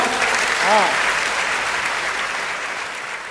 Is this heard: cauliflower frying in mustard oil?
no